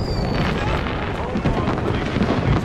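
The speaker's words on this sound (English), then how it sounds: "Let's take a look at these fireworks." Fireworks going off in the stealth video game Hitman, a dense, continuous run of booms and crackling bursts that fills the whole stretch at steady loudness, with no talk over it.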